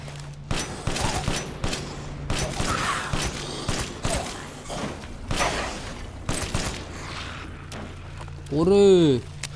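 Gunfire in Resident Evil Village comes in rapid bursts of shots and booms through a factory fight, mixed with game effects, while someone talks over much of it.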